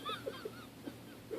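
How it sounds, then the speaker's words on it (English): A duck call is blown in short nasal honking quacks, four or five brief bursts spaced irregularly, fairly faint indoors. "It's a duck call."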